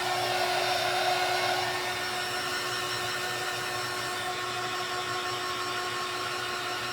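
A hair dryer blows hot air to dry paint on a pumpkin, giving a steady close whooshing whine that runs unbroken and slightly softens after the first couple of seconds.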